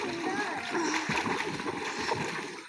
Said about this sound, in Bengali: এটা এক হাত দিয়ে সাঁতার কাছি।